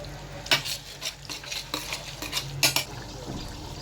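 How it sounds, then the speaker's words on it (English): Cabbage tomato sauce stirred in a cooking pot, the spoon scraping and clinking against the metal in an irregular run of close strokes over a soft sizzle. "Then stir in order to get the desired taste of it."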